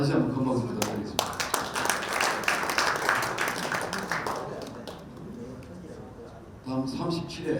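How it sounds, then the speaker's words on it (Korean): Scattered clapping from an audience at a high school centennial commemorative report meeting and scholarship book launch, with someone talking over it and sharp claps standing out at the start before fading under the voice. "다시 한번 큰 박수 부탁드리겠습니다."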